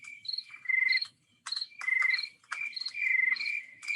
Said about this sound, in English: That's the crickets chirping there,